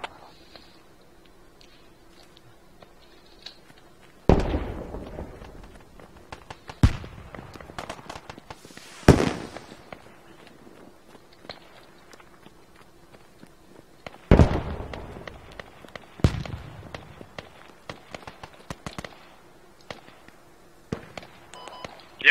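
Gunfire in the military shooter game Squad on a river valley map: sharp, fairly distant shots and short bursts crack out at irregular intervals over a quiet ambient background.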